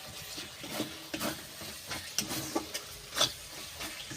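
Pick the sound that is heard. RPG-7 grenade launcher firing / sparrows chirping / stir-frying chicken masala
stir-frying chicken masala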